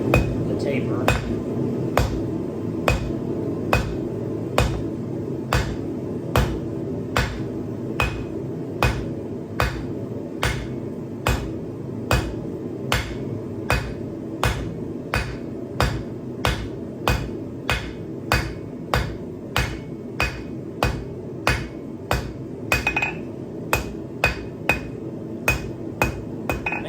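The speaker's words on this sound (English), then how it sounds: "I'm going to start out by forging this square point into the taper." Hammer blows forging a square hot steel hook point into a taper on an anvil, a long steady series of sharp ringing strikes at an even rhythm, close and loud.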